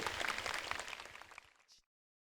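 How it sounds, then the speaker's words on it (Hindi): Audience applause at a large gathering greeting a young woman who stood up, dense clapping from many hands at steady level that fades out and stops near the end. "जोरदार ताली से उस बेटी का स्वागत होना चाहिए।"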